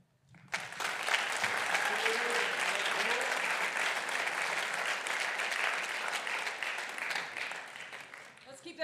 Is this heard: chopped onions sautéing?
no